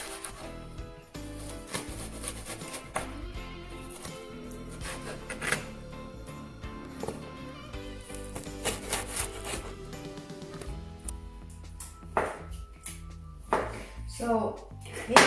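A knife chops fried rice ingredients on a wooden board in a home kitchen, giving irregular close taps and scrapes. People talk over the chopping.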